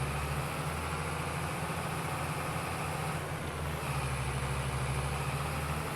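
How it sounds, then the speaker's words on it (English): Old tractor engine idling steadily in Farming Simulator 22, a low continuous diesel drone with a constant throb and no talk, loud and close throughout. "Come on, old tractor, you can do it."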